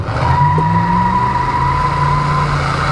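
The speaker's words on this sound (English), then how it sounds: "We're going to roll out here from a dead stop and see what the little truck will do for us." A 1990 Chevrolet 454 SS pickup truck pulls away from a dead stop. Its engine drones loud and close from inside the cab, holding a steady, sustained tone as it accelerates.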